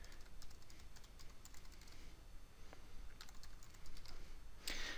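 Faint, quick tapping on a computer keyboard as a query is entered into Google BigQuery, scattered clusters of light clicks over a low background hiss, with a brief louder burst at the end.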